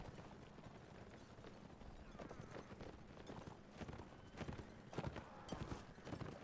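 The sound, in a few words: horses moving at a historical reenactment event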